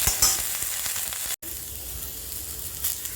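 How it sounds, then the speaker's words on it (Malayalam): Coriander leaves sauté in a hot pan for a chutney, giving a steady, close sizzle and crackle with a brief break partway through. "ഇനി നമുക്ക് മല്ലിയില നന്നായിട്ട് വഴറ്റിയെടുക്കുക"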